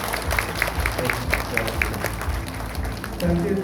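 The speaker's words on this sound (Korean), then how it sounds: "우리 기초원님들을 위해서 박수 한번 부탁드리겠습니다" Applause from an audience at a political party event honoring local council members, many hands clapping in a steady wash with some rhythmic emphasis, and a voice starting up toward the end.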